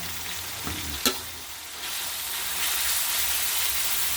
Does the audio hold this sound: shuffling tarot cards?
no